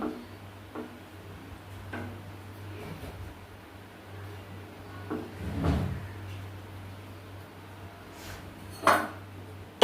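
A lid being set over a pot of oats soup so it can simmer, heard as a few light clinks and taps against a steady low hum, with one sharper clatter near the end.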